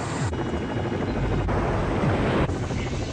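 A helicopter hovers steadily above rocks, its rotor beating in a loud, continuous throbbing chop close by, with no voices.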